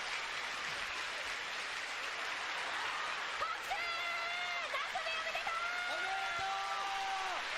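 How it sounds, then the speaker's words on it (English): Applause and crowd noise fill a live stream throughout, steady and moderately loud, with brief whoops and chuckles rising near the middle and end. "It's just people clapping."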